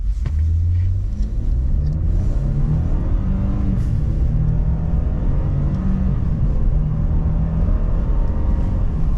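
A 2026 Ford F-150 with the 2.7-liter EcoBoost launches from idle and accelerates hard from 0 to 60. The engine drones loud and steady, its pitch climbing through the run with a heavy low rumble and no voices.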